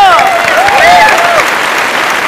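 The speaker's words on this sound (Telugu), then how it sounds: "సూపర్ సూపర్ గట్టిగా చప్పట్లు." A TV comedy show audience bursts into loud, sustained applause. Whistling or a voice-like tone rises and falls over the clapping early on.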